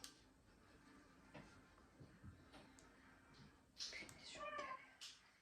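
A cat meows faintly a few times, close by, over a quiet room with small ticking and rustling sounds.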